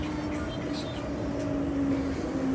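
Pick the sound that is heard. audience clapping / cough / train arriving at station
train arriving at station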